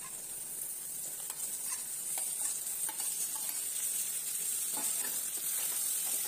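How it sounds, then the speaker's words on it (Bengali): Chopped tomatoes are stirred into crumbled fried eggs in a frying pan, with repeated scraping and tapping strokes over a continuous close sizzle. "টমেটো কুচি দেওয়া হয়ে গেলে এখন খুব ভালোভাবে নেড়ে চেড়ে মিশিয়ে নিচ্ছি।"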